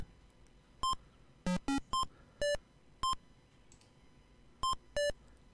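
Shrill electronic beeps from the Atari 2600 game Breakout, a series of short, sharp tones at varying pitches sounding alone, spaced irregularly with a quick cluster of higher and lower blips near the middle.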